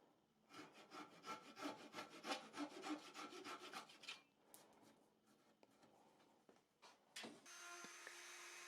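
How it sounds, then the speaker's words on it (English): A small Japanese flush cutting saw works through a walnut dowel in quick, rhythmic rasping strokes for several seconds, then stops, followed by a few soft handling knocks and a brief hum at the end. "Gotta love this little Japanese flush cutting saw."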